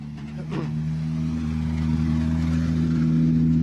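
A rally car arriving on a stage at Rally Fafe Montelongo draws closer with a steady, rising engine drone, growing louder throughout, with voices faintly audible underneath.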